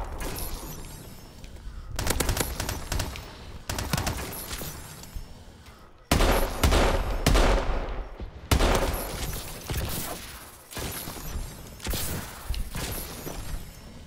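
Gunfire in the video game Call of Duty: Advanced Warfare, Gun Game mode, comes as repeated loud bursts of shots and impacts through the whole stretch, with short gaps between volleys.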